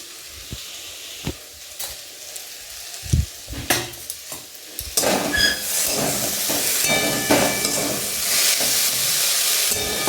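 Lightly fried potatoes for aloo posto sit in a pan over a low flame, with scattered spoon knocks and scrapes first, then a loud, steady hissing sizzle that builds and holds as water hits the hot pan.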